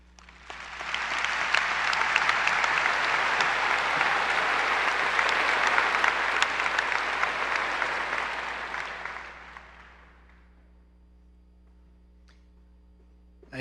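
Graduation applause from a large crowd at a high school ceremony swells quickly and holds as a dense wash of clapping for several seconds, then fades away to near quiet.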